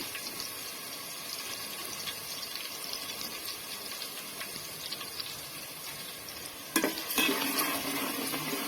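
Ginger garlic paste fries in hot oil for chicken pickle, giving a continuous sizzling hiss with stirring scrapes, then a sudden louder burst of sizzle near the end.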